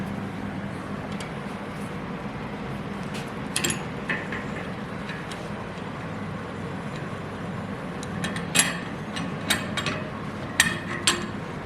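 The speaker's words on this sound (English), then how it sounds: "you just use the actual flare tool itself the second time" A flare tool forms rounded ends on new fuel line tubing during a Chevrolet C10 fuel pump install. Scattered metallic clicks and creaks ride over a steady low hum, with a few sharper ticks toward the end.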